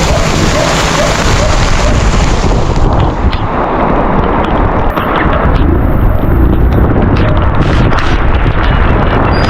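Heavy rain falls during a drive, a loud, constant roar of downpour with buffeting wind across the whole stretch and no voices.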